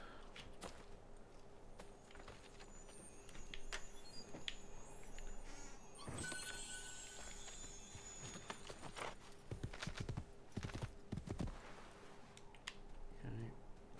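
Horse hooves clip-clopping in the video game Assassin's Creed II, a faint steady patter of hoofbeats under game ambience with scattered louder clicks and thumps.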